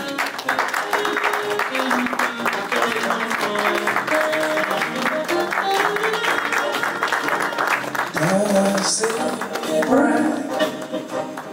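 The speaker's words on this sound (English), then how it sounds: "he deserves some applause in absentia" Steady applause from a crowd fills the space, dense clapping with some music or voices mixed underneath, holding at an even level throughout.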